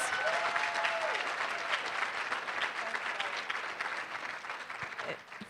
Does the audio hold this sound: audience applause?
yes